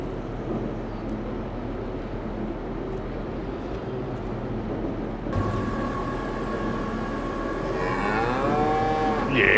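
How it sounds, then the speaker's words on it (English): Cows moo in a farming video game set on the Iowa plains, a few drawn-out lowing calls near the end over steady engine-like background rumble, with no talk. "Watch out, cows."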